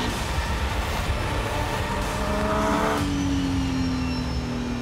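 Volvo race car engine revving hard at full power on a track, a loud continuous roar with rising pitch as it climbs through the revs, heard from close by without talk.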